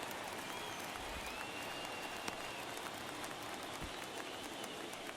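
A baseball stadium crowd in the game MLB The Show 22 cheers as a broad, steady roar that stays constant and fairly distant for the whole stretch.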